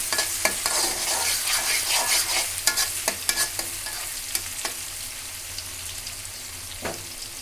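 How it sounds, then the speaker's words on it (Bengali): Onion and bay leaves frying in a pan before a fish curry, with a continuous close hiss of hot oil broken by sharp crackles and spatters, steady throughout. "চুন দিয়ে দিলাম, সাথে পেঁয়াজ আর আপনার তেজপাতা দিয়ে দিলাম।"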